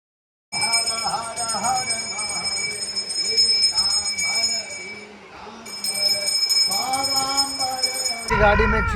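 A vehicle's automatic system rings a bell on passing a temple in Uttarakhand, a steady high ringing that runs through most of the passage under people talking inside the moving vehicle.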